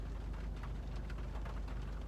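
Rain falls steadily outdoors on a cold day, a continuous dense hiss with soft scattered patters, fairly faint and even throughout with no talking.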